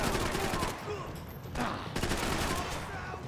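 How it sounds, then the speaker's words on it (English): Gunfire in the shooter game Max Payne 3: a steady, dense spray of shots and crackling bursts runs the whole time at moderate loudness, with a brief louder burst near the middle. "I do not know who's shooting me."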